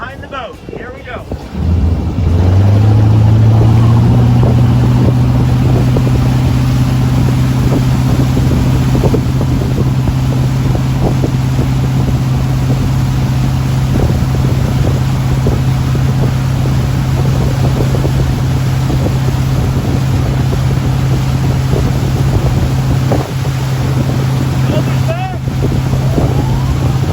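A motorboat engine drones steadily and loudly from start to finish while towing a kneeboarder, a low constant hum mixed with wind buffeting and rushing water.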